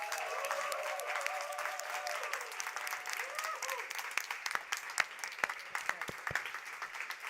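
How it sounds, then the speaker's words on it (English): An audience at the AI Native DevCon conference breaks into sustained applause with dense clapping, scattered cheers and voices underneath, growing more irregular and punctuated by louder individual claps toward the end. "So please give the biggest round of applause to Sam and Kim."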